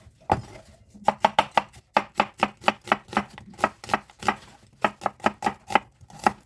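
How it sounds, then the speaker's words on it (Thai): A knife chops vegetables on a cutting board for a Korean-style Thai red curry, with quick, crisp, evenly spaced strikes in rapid bursts and short pauses between runs, close and clear. "แล้วเราจะหั่นผักให้หมดนะคะ"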